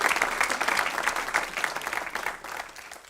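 A church congregation applauds the women, mothers and sisters at a New Year's Day service, dense steady clapping from many hands that fills the room and slowly tapers toward the end.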